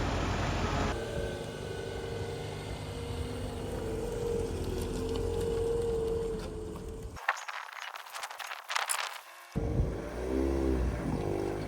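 A 1997 Toyota Corolla engine pulls hard in low gear, a steady droning rise with a brief cut in the middle before the revving resumes, close and fairly loud with road and wind noise underneath.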